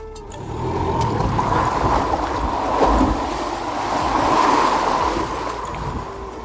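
Rushing, churning water sloshing in continuous waves in a makeshift pool jerked by a tractor, a dense roar that rises and falls gently, with a low engine-like rumble underneath.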